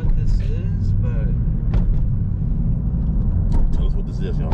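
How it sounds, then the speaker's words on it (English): A 2000 Chevrolet Corvette with 67,000 miles cruises steadily, its deep engine and road rumble filling the cabin continuously, with people talking over it throughout. "this car is freaking awesome, bro. For a 2000 Corvette"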